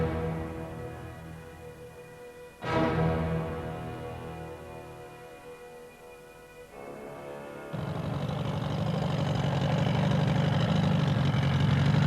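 Boat engine idling on a lake: a steady harmonic hum, broken by a sharp knock, then giving way to a rougher, louder broadband wash of noise near the end. No voices.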